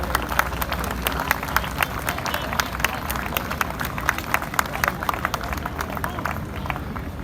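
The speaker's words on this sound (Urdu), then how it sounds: "بھرپور تالیاں ہونی چاہیے پیرزادہ صاحب کے لیے" An audience at a poetry recital (mushaira) claps steadily, giving a continuous patter of hand claps with a low crowd murmur underneath.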